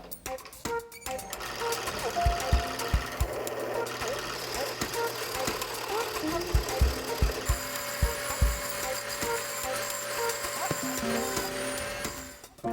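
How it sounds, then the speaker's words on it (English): Drill press spinning a styrene disc as an improvised lathe, a continuous steady motor whir with tonal hum and intermittent scraping and knocking as the disc is cut, running throughout at close range. "My good old technique of chucking styrene on the drill press and using it as a lathe"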